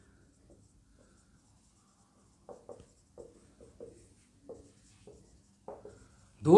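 Handwriting during a class 10 chemistry lesson, a pen or chalk making soft, short strokes in an irregular series of quiet scratches, close and otherwise nearly silent.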